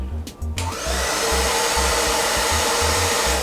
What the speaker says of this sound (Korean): 여기에 드라이기로 열을 준 다음 놔줍니다